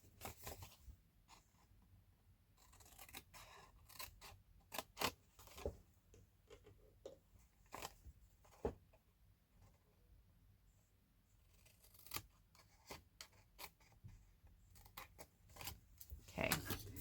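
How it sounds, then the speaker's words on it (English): Squares are cut away from a sheet of material with scissors during a crafting session, giving quiet, close snips and crisp cutting clicks in an irregular run with brief pauses. "we're going to cut these 2 squares away and taper them a little bit."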